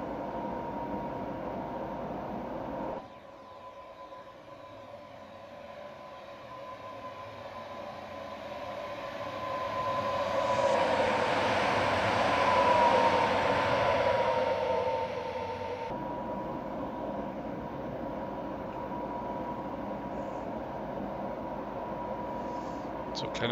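A BR 481 train from the Train Simulator Classic game rolls past with a steady broadband rush and a humming tone that swell to a peak midway and then ease off, while someone talks throughout.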